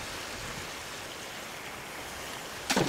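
A river flows with a steady, moderate rushing wash that stays even throughout, ending in a brief louder burst of noise.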